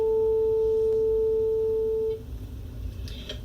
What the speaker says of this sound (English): 442 hertz means this is vibrating 442 times per 1 second.